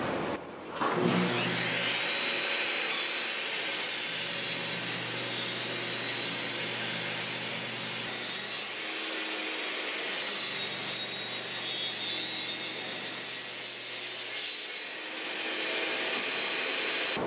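A power saw rips wood into strips for a bent-lamination end table, one long steady cut loud and close, with a low motor hum running beneath and the blade spinning down near the end.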